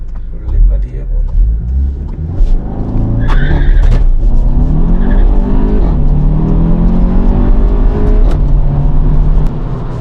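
A 2018 Skoda Octavia vRS 230 with a 2.0-litre 227 bhp engine launches hard, its tyres squealing and the wheels hopping over a steady engine roar, while people talk inside the car.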